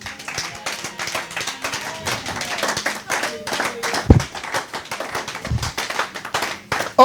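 A church congregation at an Easter Sunday celebration service claps in steady rhythmic unison, loud and close, with voices mixed in beneath the clapping.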